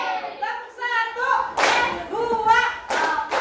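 Indonesian classroom group clapping a call-and-response rhythm pattern together, sharp hand-clap bursts in counted groups alternating with a teacher's voice calling out the counts.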